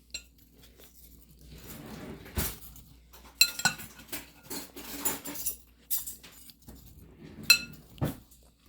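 Peeled apple pieces dressed with lemon juice, stirred in a bowl with a utensil that gives scattered clinks and soft knocks at close range.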